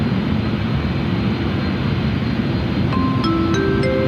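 A jet aircraft at Sydney airport gives off a loud, steady engine roar throughout, with rising whistling tones toward the end. No one speaks.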